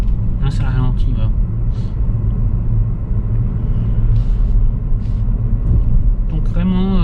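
A 2022 Honda Civic e:HEV Advance hybrid sedan drives and slows down, heard as a steady low road and engine rumble from inside the cabin, with a person talking over it throughout.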